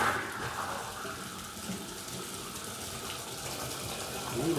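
Hot water runs steadily from a bathtub tap during a tub and shower repair, a continuous broadband gush that stays close and fairly loud for the whole stretch with no talking.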